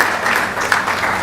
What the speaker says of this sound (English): let's give him a big round of applause for sponsoring for the Annadan Seva